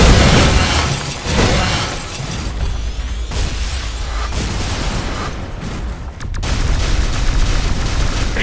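Buildings and towers destroyed by explosions in The Riftbreaker, with loud booming blasts and shattering debris over a constant rumbling battle din, with heavy impacts at the start and again near the end.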